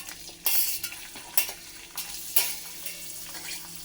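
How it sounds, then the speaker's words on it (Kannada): Onions fry in a pan with a steady low sizzle, while a spoon scrapes and stirs in several short, close bursts. "ಆನಿಯನ್ ಹಾಕ್ಕೊಂಡಾದ್ಮೇಲೆ ಸ್ವಲ್ಪ ಹಂಗೆ ತೊಳಸವು"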